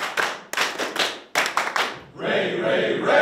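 A Masonic rhythmic clapping salute, counted in threes like a Scottish-style 'ray, ray, ray', rings out as sharp, close hand claps in quick groups, then gives way to a steadier murmur of noise.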